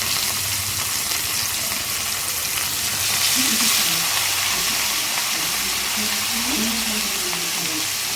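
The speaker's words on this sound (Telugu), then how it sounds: "సో ఆయిల్ హీట్ ఎక్కిన తర్వాత ఈ విధంగా ఫ్రై చేసుకోవాలండి." Fish pieces fry in hot oil in a pan, giving a loud, steady sizzle and hiss throughout with faint stirring sounds and a little quiet talk in the background.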